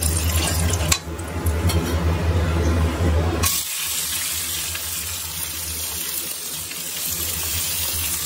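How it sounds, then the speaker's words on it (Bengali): Water runs from a tap into a pot of mutton curry as a steady, loud rushing stream. The pitch and texture change partway through as the pot fills, and no one speaks. "তবে আরেকটু মনে হচ্ছে জল দিতে হবে"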